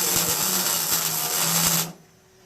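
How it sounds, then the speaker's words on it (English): Tack welding a metal coat rack gives a loud, close, buzzing crackle with a faint rapid pulse that runs steadily for about two seconds and then cuts off abruptly. "We got our welder back here. We're just going to kind of go willy-nilly and just kind of tack that right in place right there."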